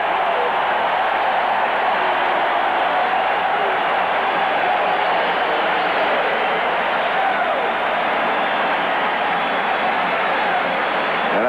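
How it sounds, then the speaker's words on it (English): A steady, loud stadium crowd roar fills a 1983 NFL game between the Kansas City Chiefs and Washington Redskins on a third-down play, holding an even, dense wash of noise throughout with no clear breaks. "the crowd tells the story here"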